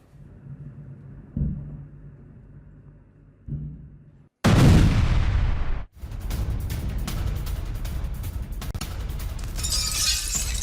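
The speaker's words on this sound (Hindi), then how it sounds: "हमले के बाद रिफाइनरी में जोरदार धमाका हुआ।" A sudden loud blast at an oil refinery in Moscow after a drone and missile attack bursts in after a quiet rumble, followed by sustained crackling roar and debris-like noise.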